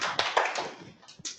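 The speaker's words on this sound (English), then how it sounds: "And then you end with two claps on the midline." Two hand claps at a community learning session, each a sharp transient, close and clear, with breathy room noise between them.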